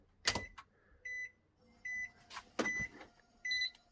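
Ignition being switched on in a Suzuki Swift ZC31S fitted with a turbo timer: a repeating electronic beeping chime in short bursts, with a few louder clicks and clunks between the tones, close and fairly quiet.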